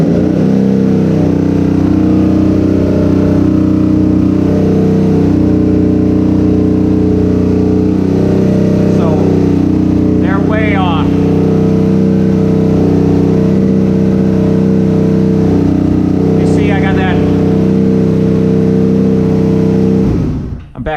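A Honda VF500F V4 motorcycle engine runs steadily and loudly throughout, its rough idle holding a constant drone, with brief rising revs near the middle and again later before it cuts off at the end.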